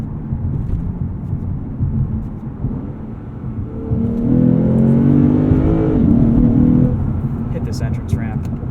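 A 2019 Lexus RC F in Sport Plus mode accelerating, its engine rising in a rough, rising growl with climbing pitch from inside the cabin, a steady road drone beneath and someone talking over it.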